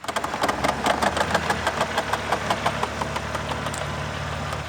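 A BMW G87 M2 engine idles up close while a rhythmic scraping and rubbing sound repeats quickly underneath as a tire on aggressive aftermarket wheels grazes the plastic fender liner fins.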